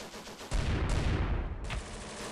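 Heavy gunfire during a paratrooper drop in a video game, a quiet opening that bursts into dense, loud, overlapping shots for over a second before easing off.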